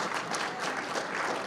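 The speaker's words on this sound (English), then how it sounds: "yeah, we can clap for that." Audience applause at a community briefing on workers and the economy, steady dense clapping from a crowd filling the whole short stretch without a break.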